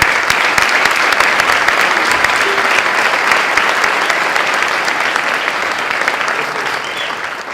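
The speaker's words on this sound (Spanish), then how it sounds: "Pido un aplauso para Jaime." Sustained audience applause for Jaime Torres at the Ar+Tec 2019 event, a dense steady roar of many hands clapping close and loud throughout, easing slightly toward the end with no voices over it.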